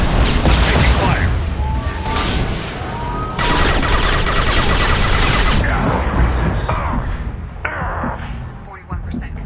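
Rapid gunfire and bursts of weapon fire in the video game Mass Effect 2, loud and continuous, with booms, whooshes and game voices mixed through the whole stretch.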